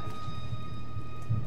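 Steady rain in the God of War video game, a soft, even hiss with low rumbling underneath that continues throughout without any talk.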